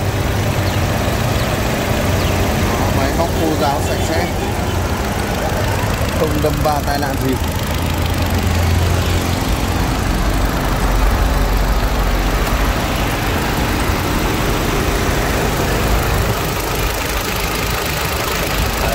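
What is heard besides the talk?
2010 Lacetti CDX 1.6 car engine idling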